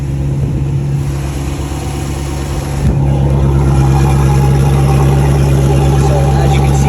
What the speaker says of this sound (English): It's warming up the engine.